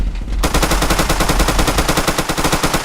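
Rapid automatic gunfire from a video game rattles in a dense, continuous burst, loud and close, with no talk over it.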